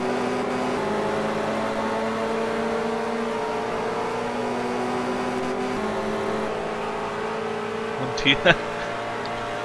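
Touring car engines drone steadily at a distance during a 1985 race at Pukekohe, a sustained mechanical hum with a couple of brief sharper bursts near the end.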